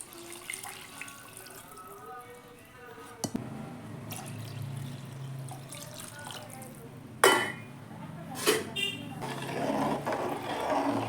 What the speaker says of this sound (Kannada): ನಾನು ಈಗ ಈ ಪಾತ್ರೆಯಿಂದ ಎರಡರಷ್ಟು ನೀರು ಹಾಕ್ಕೊತೀನಿ